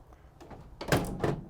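The rear door of a 2016 Vauxhall Vivaro van is handled and pushed shut: soft rattles and movement first, then two solid, close thuds as the door latches.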